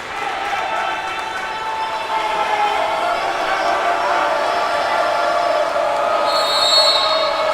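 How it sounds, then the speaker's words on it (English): A basketball home crowd roars and cheers in a gym late in a close varsity boys game, a sustained loud wash of voices rising slightly toward the end. "Pace crowd making all the noise they can."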